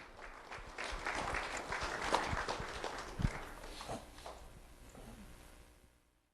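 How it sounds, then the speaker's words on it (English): Applause from an audience at a school board event for a board member, moderate clapping that builds, then thins and fades away over a few seconds. "Let's have a round of applause for Melissa Giovanelli"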